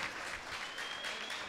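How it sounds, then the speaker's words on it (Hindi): A mushaira audience in Malegaon claps in a steady wash of applause to welcome poet Mohammad Ali, the sound even and moderately distant, with no voice rising above it. "दोस्तों, तालियां बजा करके इस्तकबाल करें मोहम्मद अली का।"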